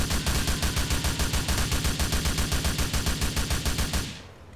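Sustained automatic fire from an M4 rifle in a GTA video game, a loud, rapid and steady stream of shots lasting about four seconds before cutting off abruptly.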